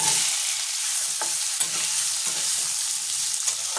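Raw green tomato with a little garlic sizzles steadily in hot oil on a home stove, with occasional soft stirring scrapes and clacks breaking through the constant frying hiss; no voices.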